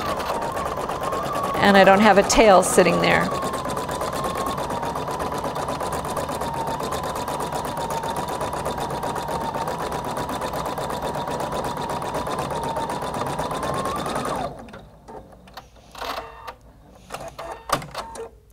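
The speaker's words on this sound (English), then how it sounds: "So I'm going to go ahead and press now the start-stop button." A Husqvarna Viking Designer Brilliance 80 embroidery machine running steadily with a high, even mechanical whir for about fourteen seconds before stopping, with brief talk near the start and after it stops.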